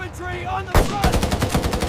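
Gunfire during a World War II Iwo Jima battle reenactment involving flame tanks: a sharp loud blast, then a rapid burst of repeated shots, close and dense with a rough rattling rhythm.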